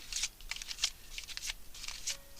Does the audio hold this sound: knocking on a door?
no